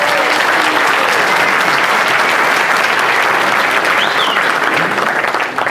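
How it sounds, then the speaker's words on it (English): A large room of guests at a city's annual address dinner applauds the mayor's wife at the head table, dense steady clapping filling the whole stretch, loud and close, easing slightly at the very end. "let's give her a nice round of applause"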